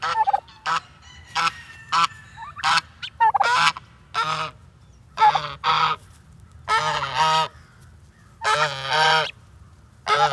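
A goose-like pet bird in a chicken pen gives loud repeated honks, close and harsh, in uneven bursts of one or two calls separated by short quiet gaps.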